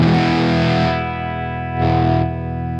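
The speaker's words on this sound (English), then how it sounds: "cleans up really fast. And what it gives you is this really great sparkly clean sound" An electric guitar runs through a fuzz pedal with its volume knob rolled back, giving a cleaned-up, sparkly tone. A sustained chord rings loud and close, dips, then swells again with a second strum, with no voices.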